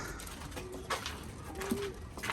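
Pigeons coo inside a pigeon loft, a few soft, low throaty calls rising over a quiet indoor background with light rustling.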